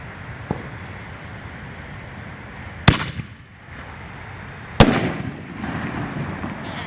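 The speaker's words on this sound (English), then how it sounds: "here's the second Excalibur shell, the older one that was in the New Generation kit" Two Excalibur aerial canister shells from an older New Generation kit burst in sharp, loud booms a couple of seconds apart, each trailing off in a crackling rumble over steady outdoor background noise.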